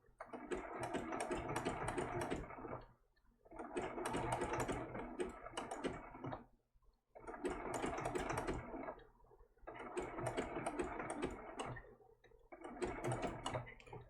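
Sewing machine stitching a baby turtle applique in matching thread, running in five bursts of rapid needle chatter separated by short pauses, close and fairly loud.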